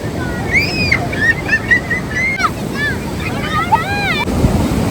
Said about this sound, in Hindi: लहरें बड़ी तेज़ तेज़ आ रही हैं, खतरनाक समंदर की लहरें यहाँ पे।